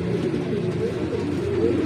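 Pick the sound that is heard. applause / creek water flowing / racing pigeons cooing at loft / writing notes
racing pigeons cooing at loft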